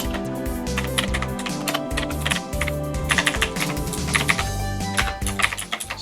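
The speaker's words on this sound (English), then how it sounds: "It's a lot of typing there." Continuous rapid typing on a computer keyboard for a 3D-printed Raspberry Pi retrocomputer, dense clattering keystrokes close and loud throughout with no pauses, a steady hum underneath.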